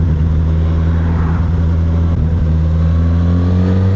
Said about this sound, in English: got that typical inline 4 hum, with a little bit of a brap in there as well